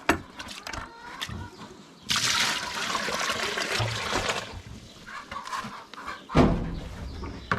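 Water pours and splashes for farm animals in a coop setting, a broad steady gush lasting a few seconds after some clatter, with a second brief splash near the end and faint fowl sounds around it.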